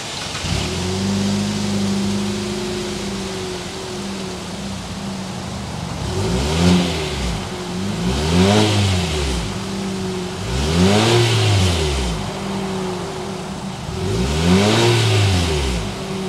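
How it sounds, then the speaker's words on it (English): A 2023 Infiniti QX50 with a 2.0-liter variable compression turbocharged four-cylinder idles steadily, then gets four spaced throttle blips, each rising and falling smoothly, heard close and clear with no talk. "start it up so you can hear that exhaust note."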